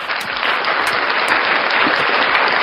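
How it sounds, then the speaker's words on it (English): Steady, dense clapping fills the whole stretch at an even level, sounding more like a group applauding than a single pair of hands, with no speech on top. "I clap for you."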